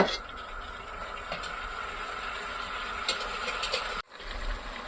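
Chicken curry pieces sautéing in a little oil, a steady broadband hiss and crackle running continuously with a few brief clinks, cutting out for a moment near the end before resuming.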